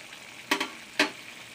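Brinjal and mango curry cooking in a pan, faint background simmering broken by two short stirring scrapes about half a second apart, with no talking.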